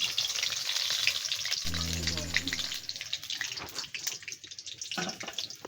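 Crispy cornflour rolls deep-frying in oil give a bright, continuous crackling sizzle, close and fairly loud, with a short low hum partway through and a few knocks as the rolls are lifted out.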